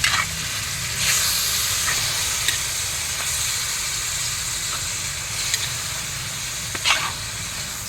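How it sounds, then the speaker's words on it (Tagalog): Meat sizzles steadily while being sautéed (sangkutsa) in a pan, a continuous close hiss with a few soft stirring scrapes and no talk. "Sangkutsahin ko po muna"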